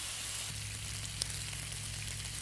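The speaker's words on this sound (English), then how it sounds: "So let me get this bacon fried up" Bacon fries on a Blackstone griddle with a steady, dense sizzle and crackle close by, plus a faint low hum and one small tick, with no talking.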